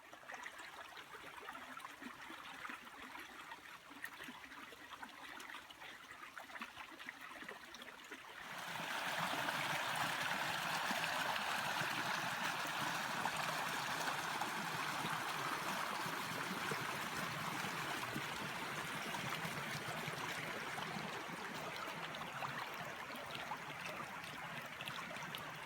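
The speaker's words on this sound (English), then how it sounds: "All you can hear is a faint trickle of water." Soft outdoor water trickling on a slushy, muddy winter hike near Freeport, Maine, quiet at first, then a fuller, steady rush of flowing water that continues evenly without voices.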